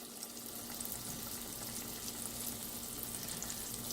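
Calamari and whiting fish fry in hot oil with a steady, dense sizzle that holds the same close, even level throughout, with no talking over it.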